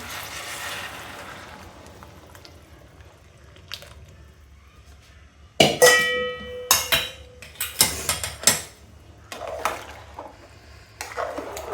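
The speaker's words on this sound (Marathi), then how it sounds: "हे गरम झालेलं पाणी आपण ह्यात ओततोय" Quiet kitchen background, then hot water splashes and bubbles into a pot of rice for spiced vegetable rice in several bursts with clinks and stirring noises, fairly close.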